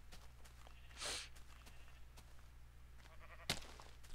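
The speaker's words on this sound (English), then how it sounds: "Lots of sheep." Two short sheep bleats from the Minecraft video game, one near the start and one later, with quiet in between and no talking.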